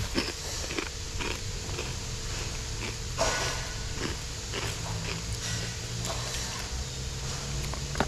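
Someone chews crispy pork with holy basil over rice with a fried egg, a steady run of close, loud crunching bites.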